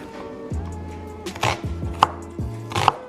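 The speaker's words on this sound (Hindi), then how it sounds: "इसको रफली चॉप करना है, कोई भी इसका फैंसी रूल नहीं है" A knife roughly chops onions on a board, a handful of close, firm thuds in an uneven rhythm with light crisp clicks between them, no voices.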